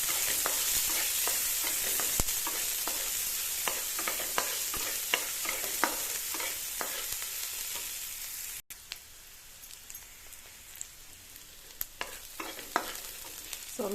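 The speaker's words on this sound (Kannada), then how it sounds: "ನಂತರ ಕಟ್ ಮಾಡಿ ಇಟ್ಟಿರೋಂಥ ಈರುಳ್ಳಿ ಸ್ವಲ್ಪ ಕೆಂಪಗಾಗೋ ತನಕ ಫ್ರೈ ಮಾಡಿ" Chopped onions fry in a pan with mustard seeds and cumin, giving a steady soft sizzle. A spoon stirs and scrapes repeatedly, making close, irregular clacks throughout.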